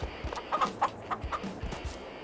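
Chickens in the farming video game Farming Simulator 22 cluck in a series of short, close, moderately quiet calls with an uneven rhythm.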